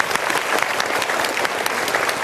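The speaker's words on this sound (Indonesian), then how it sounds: "Kita berikan tepuk tangan dulu." Audience applause from a seated crowd at a motivational talk, dense and steady throughout, with sustained clapping filling the whole stretch at even loudness.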